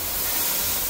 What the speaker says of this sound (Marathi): चांगली उकळू दे, चांगला उकळू दे चहा